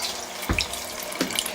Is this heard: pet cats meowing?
no